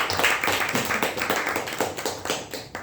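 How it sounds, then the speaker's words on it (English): Scattered clapping from a small Toastmasters club meeting audience, a short uneven round of applause close by, with individual claps distinct. "Please give a big round of applause"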